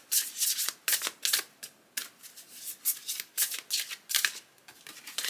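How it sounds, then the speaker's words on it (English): Cards from a deck for a reading are handled and shuffled close up, giving quick papery riffles and slaps in an uneven rhythm with short pauses, quiet and without talk. "And I will pull a card for you."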